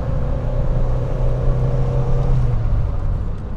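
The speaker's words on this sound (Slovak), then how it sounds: "A opäť čakám, kým turbo natlačí." Lancia Delta HF Integrale turbocharged engine pulling hard under acceleration from the cabin, a steady droning rumble with a rising whine that holds for several seconds and then eases, with no talk over it.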